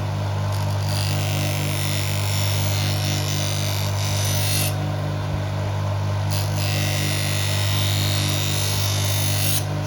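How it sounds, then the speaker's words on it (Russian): A bench grinder's abrasive wheel sharpens a knife blade, a steady loud motor hum running throughout with brief bursts of harsher grinding hiss as the steel meets the wheel. "Плотно держим ножик, включаем."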